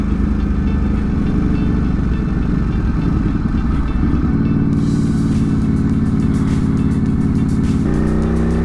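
A Ducati superbike on Pirelli Super Corsa SP tires rides on an icy 28-degree morning. The engine drones loud and close with steady rumbling throughout, shifting pitch as the throttle changes, and wind rushes past.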